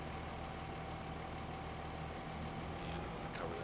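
A farm tractor engine from the Farming Simulator 15 video game drones at a steady low idle, continuous and moderately loud, with a faint tonal hum running through it and no talking.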